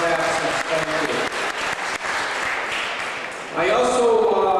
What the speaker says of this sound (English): Let's give them a warm round of applause for looking after us